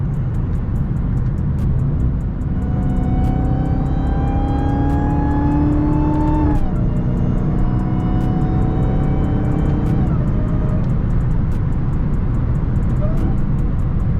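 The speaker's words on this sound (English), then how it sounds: "them downshifts are crazy" A Dodge Hellcat Widebody's engine roars loudly and continuously, its pitch sweeping up and then dropping sharply through a series of downshifts, with the exhaust note rising and falling in steps.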